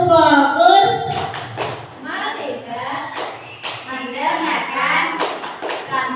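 A class group performs the tepuk fokus focus clap routine, chanting voices alternating with bursts of rhythmic hand claps and taps close by, the claps punctuating the spoken rhythm.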